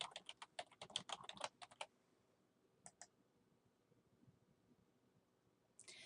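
Fingers type a username and password on a computer keyboard, a quick burst of close, crisp key clicks, a couple of isolated taps, then another short flurry.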